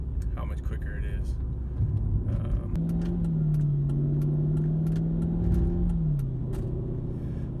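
Stock Mercedes C55 AMG W203 with a modified exhaust accelerating, a loud steady engine drone holding pitch for several seconds before dropping off, with road rumble throughout.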